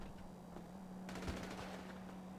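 In GTA 5, a machine gun fires a rapid, sustained burst that starts partway through and rattles on steadily at a moderate distance over a constant background hum.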